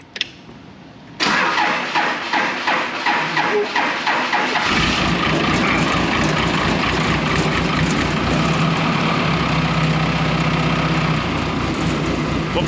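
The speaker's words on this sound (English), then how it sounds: "let's see if the old Cummins will start up" An old Cummins diesel engine cranks over with a run of rhythmic starter pulses, then catches and settles into a loud, steady, close-up idle with no talking.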